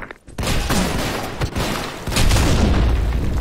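Grenade blast in a first-person shooter game, a loud booming burst followed by rolling rumble and crackling gunfire, close and dense with no pause.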